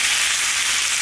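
A three-ingredient vegan dish frying and being stirred in a pan, giving a steady, close, even sizzle with no talking.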